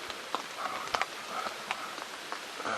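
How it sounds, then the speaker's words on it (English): Steady rain falls outdoors at night, a dense hiss with scattered distinct drops pattering on a surface, fairly quiet and alone without talk. "a super cold rain. It's cool though."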